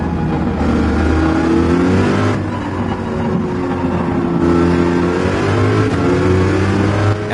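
Corvette engine in Gran Turismo 7 accelerating during an online race, a loud steady engine drone with rising pitch sweeps as it climbs through gears, with brief dips at shifts.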